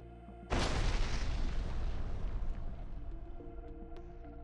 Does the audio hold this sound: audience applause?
no